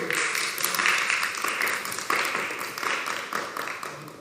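Audience applauding a speaker at a French employment conference, a steady dense patter of many hands clapping throughout, fairly close and loud with no talk over it.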